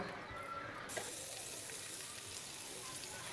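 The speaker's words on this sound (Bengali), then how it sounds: "এখন তেল গরম হয়ে আসলে তাতে একে একে মাছের টুকরাগুলো দিয়ে দিব" Rupchanda pomfret fish pieces hitting hot oil: a soft background hiss jumps into a brighter, fuller sizzle about a second in and holds steady, fairly quiet and close.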